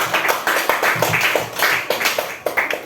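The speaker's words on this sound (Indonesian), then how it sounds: "Kita kasih tepuk tangan." A classroom group claps for a student group after its presentation, a dense patter of many hands applauding steadily and fairly close throughout, with no voices over it.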